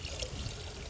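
Liquid pani puri water, the flavoured spiced water for golgappa, is poured steadily for about a second, giving a soft continuous trickle with no voices.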